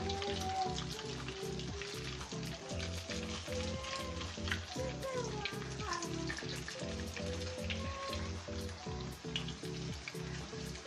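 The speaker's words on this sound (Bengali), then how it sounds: "সেই ফুলের নকশার পিঠাটা আমরা এখন আমাদের কড়াইতে ভাজতে দিয়ে দেব" Steady oil frying of a large flower-patterned pitha filling a wok, with a constant crackling sizzle, joined by a repeating low rhythmic thumping and faint clinks, with no voices.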